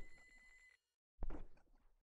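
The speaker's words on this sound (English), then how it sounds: "Oh, another phone call." A phone ringing in the fishing video game Normal Fishing: a brief electronic ring tone, then a short pause and a louder muffled burst, all faint and with no talking.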